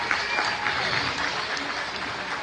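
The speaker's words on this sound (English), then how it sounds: "Let's give our finalists here in the senior showmanship a big round of applause." Audience at a junior livestock show claps for the senior showmanship finalists, a steady wash of applause from a sizable crowd, moderately loud and continuous.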